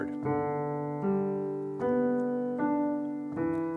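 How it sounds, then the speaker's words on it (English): Piano notes climb in a four-note ascending broken chord, repeated in an even pulse with each tone sustaining under the next, a warm, close and steady sound with nobody talking. "Again, it's a 4-note"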